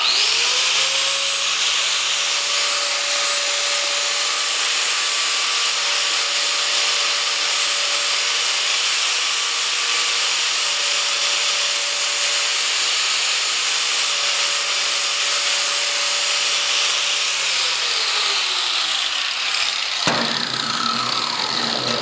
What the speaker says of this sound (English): hit it with a grinder. So I'm just going to cut the corners here a little bit.